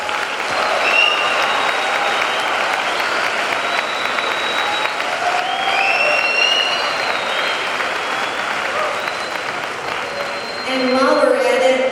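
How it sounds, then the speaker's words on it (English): A school hall of fame ceremony audience applauds inductees with sustained, dense clapping that fills the room, joined near the end by cheering voices. "Let's give our inductees a round of applause."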